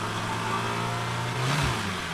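A small car engine in the driving game Drive Beyond Horizons hums at a steady idle, with a brief low rise in pitch near the end.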